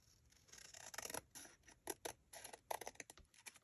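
Scissors snip through paper in a craft project, a quiet run of irregular crisp cuts and rustles in close succession, ending with a few sharper snips.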